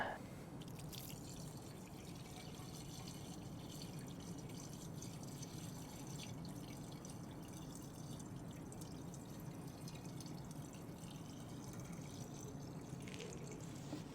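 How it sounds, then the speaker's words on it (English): Water is poured into a fire pump to prime it, a faint continuous trickling and dripping pour heard at low level throughout, with no voices. "You want to fill that with water."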